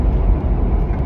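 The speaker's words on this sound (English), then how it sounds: "this is wide open throttle Baja mode." A Ford Ranger Raptor with exhaust dump pipes at wide open throttle in Baja mode produces a brief, loud, heavy low roar that stays dense and even for its short span.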